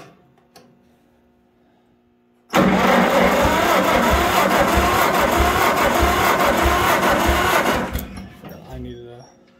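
A John Deere 40 tractor engine, left sitting for years, coughs to life in the cold and runs steadily and loudly for about five seconds before cutting out abruptly into quiet.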